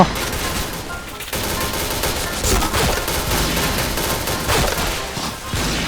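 Gunfire from a gun in a shooter video game rattles in loud, rapid bursts, close and nearly continuous, with brief pauses between volleys.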